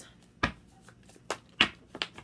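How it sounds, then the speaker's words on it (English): A deck of tarot cards is shuffled in several sharp riffling bursts at irregular intervals, close and crisp, with no talk. "One more shuffle"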